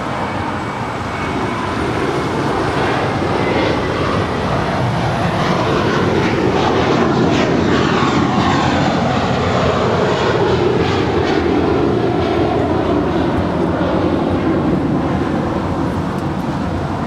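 An American Airlines A321 jet on flight 238 to JFK at LAX roars steadily and loudly throughout, its engine noise swelling slightly in the middle as it passes, with no talking.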